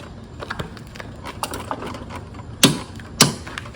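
A torque wrench clicks as a Honda mower blade bolt reaches 40 foot-pounds: soft ratcheting ticks, then two sharp, close clicks near the end.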